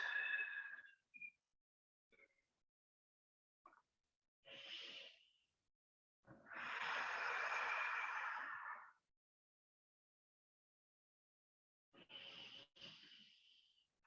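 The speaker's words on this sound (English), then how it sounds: "let's take 3 more deep breaths here" Deep, slow breaths during a relaxing yoga session, quiet and close: a few long, airy exhales and inhales separated by silence, with one especially long, full breath in the middle.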